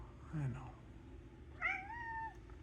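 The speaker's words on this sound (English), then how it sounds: "my cat wants to visit, so give me a second" A cat meows twice near the microphone during a game-draft stream, a short low call followed by a longer rising meow, with soft room noise between and no talk over it.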